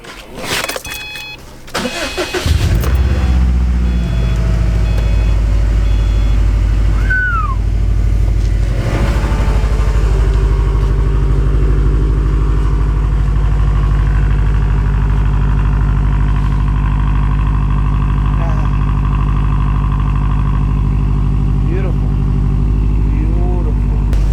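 A modified 2011 Subaru STI engine cranking over and catching, then settling into a loud, steady, close idle with a deep, even rumble lasting over twenty seconds.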